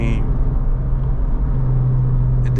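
A Honda Civic Type R FL5 engine hums steadily from inside the cabin while driving, a constant low rumble with a faint whir and no sharp revs.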